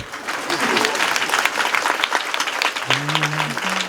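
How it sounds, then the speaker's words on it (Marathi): A large audience at a Marathi kirtan breaks into sustained, dense clapping. A voice rises briefly near the end. "वाजवायची असतील तर वाजवा टाळ्या"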